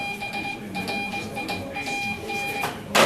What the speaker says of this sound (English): So Brian would sound like this.